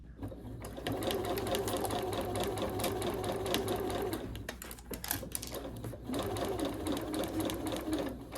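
A sewing machine runs steadily while stitching a cotton tote bag, its rapid needle chatter close and continuous. It breaks off briefly in the middle before resuming at the same brisk pace.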